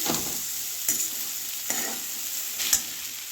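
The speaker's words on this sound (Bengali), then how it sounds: "শুকনো লঙ্কা আর গোটা জিরে ফোড়ন দিলাম" Dried red chillies and whole cumin seeds sizzle in hot oil in a pan, giving a steady crackling hiss, with a few sharp scraping strokes of a spoon as the tempering is stirred.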